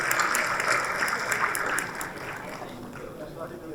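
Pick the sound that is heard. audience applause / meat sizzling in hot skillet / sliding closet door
audience applause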